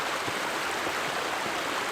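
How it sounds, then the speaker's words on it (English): Water in a stream flows steadily among bushes along a rock line, a continuous broadband rushing and gurgling close by, with no voices. "I hear the water flowing, but I can't see it."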